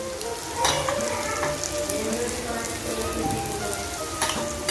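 Onions and tomatoes frying in a pan crackle with a dense, constant sizzle like light rain, with occasional stirring scrapes and a faint voice in the background.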